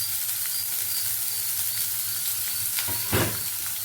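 Curry leaves and a single dried red chili sizzle in hot oil for a mushroom curry, giving a steady, close hiss of frying with a brief louder crackling burst near the end and no talking.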